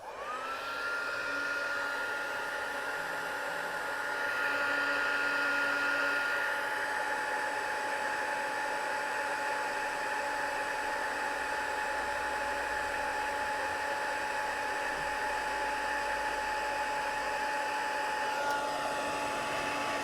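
A heat tool blows steadily while heat-setting embossing ink for an emboss-resist watercolour technique, a continuous loud whirring hiss with a steady whine that runs unbroken for about twenty seconds, with no talking.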